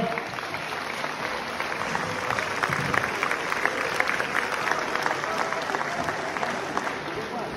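Crowd applause for two boxers after a four-round bout at an amateur boxing cup in Bulgaria, dense steady clapping from a large audience filling the hall, with a murmur of voices mixed in and no let-up.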